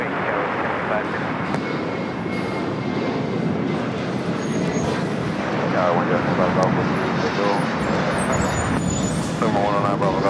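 A jet airliner rolls for takeoff on runway 25 right at LAX, a broad rising engine roar heard from a distance under ongoing speech.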